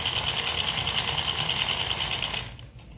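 Sewing machine stitching a samosa-cut pajama, a fast steady mechanical whir running close and loud for most of the time before stopping abruptly near the end.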